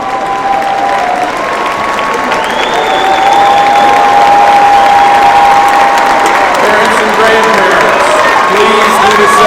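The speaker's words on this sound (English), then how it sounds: "Okay, you can clap." A large commencement crowd at a university spring ceremony breaks into loud applause with cheers and whoops, the clapping building and swelling as it goes while shouts rise over it.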